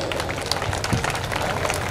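Audience applause at a stage program in Kesinga, a steady dense patter of clapping from a crowd that holds for the full stretch with no break.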